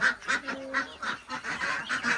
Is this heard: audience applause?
no